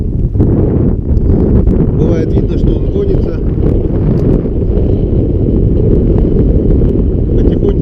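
Steady wind roars across a microphone on a fishing boat on a warm, breezy day, a dense low rumble running throughout while someone talks over it.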